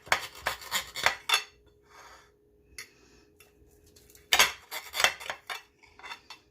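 A fork and knife cut into a crispy dish of potato, eggs, peppers, onions and ham on a plate, giving sharp clinks and scrapes in two bursts with a quieter pause between them, close and distinct.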